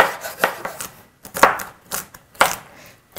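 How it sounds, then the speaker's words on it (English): A knife chops carrots into small pieces on a cutting board, a handful of distinct, fairly close strikes spaced irregularly with quiet gaps between. "Okay, so we have the carrots chopped up."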